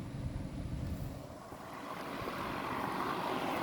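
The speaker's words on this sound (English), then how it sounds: "Excuse the fan noise, it's very humid out this morning," An electric fan runs outdoors on a humid morning during front brake pad work on a Dodge Durango 3.6. It gives a steady, broad whooshing drone at moderate level, with no voices.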